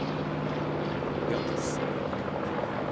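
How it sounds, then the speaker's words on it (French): Curtiss H75 Hawk propeller warplane landing at the Paris Air Show at Le Bourget: a steady, droning engine hum held at an even level, with someone talking over it. "L'atterrissage du H-75."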